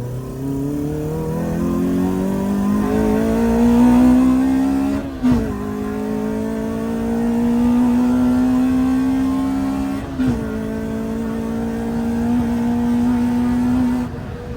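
A modified Honda Civic FD2 Type R accelerates hard in gear, the engine note climbing steadily with two brief dips at the shifts, loud and close throughout, with no talking.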